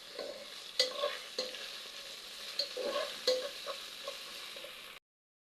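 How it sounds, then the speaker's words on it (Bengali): Garlic and ginger paste is stirred with fried fish in a pan, a soft, fairly quiet sizzle under a handful of sharp spatula knocks and scrapes against the metal, close up and without speech, cutting off abruptly near the end. "এগুলোকে এখন আমি ভালো করে নেড়ে দেব।"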